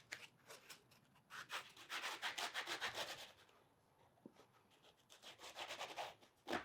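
Thin saw cutting through a wooden box veneered with thin border strips, giving rhythmic back-and-forth rasping strokes, close and fairly loud, pausing briefly midway before the strokes resume.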